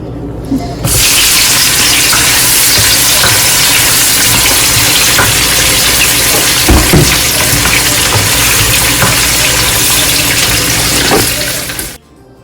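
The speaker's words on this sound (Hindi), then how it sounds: "तो अब ऑयल हो गया, तो अब हम अनियन डालेंगे हमारे।" Chopped onions drop into hot oil with cumin for green masala chicken, setting off a loud, steady broadband sizzle that starts abruptly and continues until it cuts out near the end.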